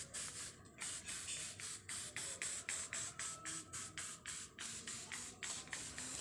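Liquid orchid fertilizer sprayed from a hand trigger bottle: a quick, even series of about a dozen short, soft hissing squirts in steady rhythm, close and quiet, with no voices.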